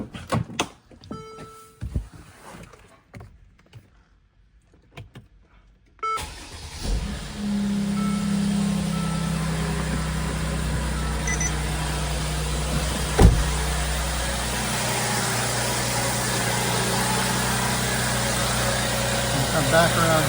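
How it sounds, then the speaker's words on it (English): A car engine cranks and catches during a battery test, then settles into a steady, close idle after a few quiet seconds of small clicks and thunks, with one sharp knock partway through. "So I'm going to come around to the car and start the engine up."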